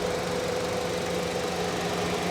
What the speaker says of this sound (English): Engine is wobbling a little bit.